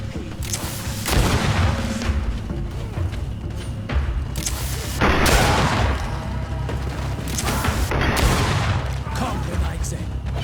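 Grenade blast and battle noise in the game GreedFall, dense repeated booms and crackling bursts at high loudness, with voices shouting through the chaos.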